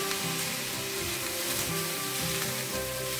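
Prawn fried rice sizzling steadily in a hot pan just after dark soy sauce is poured in, a continuous crackling hiss with faint stirring scrapes, close and alone.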